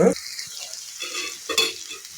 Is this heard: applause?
no